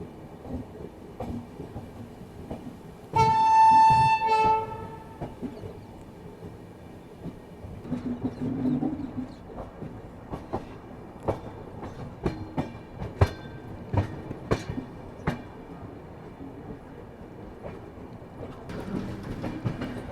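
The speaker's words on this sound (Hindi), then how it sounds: "इसलिए ट्रेन की रफ्तार जो है स्लो चल रही है" The Ahmedabad-Gorakhpur Express rolls slowly through fog, with irregular wheel clacks and rattles across rail joints, and a loud tonal horn or whistle sounds briefly early on.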